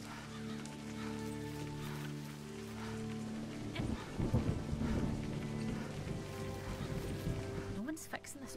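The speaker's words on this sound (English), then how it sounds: "now that's thunder" Thunder rolls low and heavy under steady rain in the video game A Highland Song, a deep rumble swelling midway and fading, with a droning musical tone underneath and faint bursts near the end.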